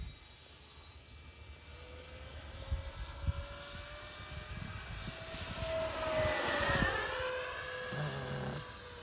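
Freewing A-10 Thunderbolt II RC jet with twin 80mm ducted fans run to full power on a runway: a distant whine that swells into a louder rushing roar and sweeps past, with faint wind noise and no talk.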